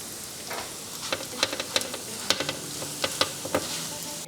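Gorditas frying in a pan until crispy, a steady oily sizzle with scattered sharp pops and crackles throughout, close and clear, no voices.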